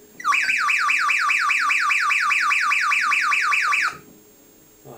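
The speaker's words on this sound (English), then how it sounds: "when you press it in, it sounds like a siren, and it is quite loud" A wind-up radio's emergency alarm siren whoops rapidly and steadily for about four seconds, loud and electronic, then cuts off abruptly, leaving quiet room noise.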